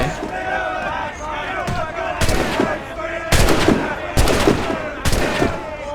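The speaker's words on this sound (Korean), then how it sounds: "총은 니들이 알아서 쏘고 나는 숨어 있을게" Gunfire in the video game Assassin's Creed Rogue, with several loud bursts of shots and blasts cracking out at irregular intervals over a busy battle din of shouting crowd noise.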